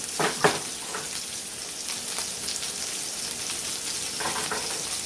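Steady sizzling of food frying in a hot pan, close and continuous, with a few scraping stirs near the start and end.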